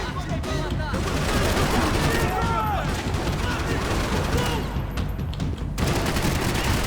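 Dense, continuous gunfire fills a Max Payne 3 firefight, with overlapping shots and bursts from many weapons blending into a loud, unbroken barrage.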